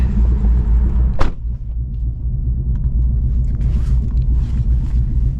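Ford Mustang GT S650 V8 with a ghost cam tune, running on E85, rumbling steadily with a deep low throb and choppy idle texture, close and loud throughout, with a brief sharp transient just past a second in.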